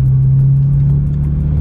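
BMW E90 sedan driving at steady speed, a continuous low engine and road rumble holding an even drone throughout, close and fairly loud with no voices.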